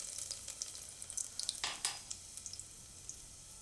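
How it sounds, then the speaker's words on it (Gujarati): Garlic cloves hit hot oil with a quiet, spitting sizzle made of many small crackles and pops, most dense around the middle; no voices. "તો આપણે દૂધીને કાપી લીધી છે, અને તેલ ગરમ થઈ ગયું છે. તો એમાં આપણે પહેલાં લસણની કળીઓ નાખીશું"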